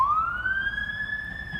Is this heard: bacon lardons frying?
no